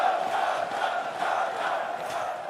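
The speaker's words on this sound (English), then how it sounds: "it's crazy being in such a big crowd and how supportive they are" An esports arena crowd roars and cheers at a League of Legends LCS Spring Split lower bracket final between Team Liquid and Evil Geniuses. It is a dense, continuous wash of voices that swells slightly but never breaks.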